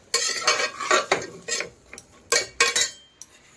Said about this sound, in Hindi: डाल के इसको अच्छे से एक मिक्स दूंगी।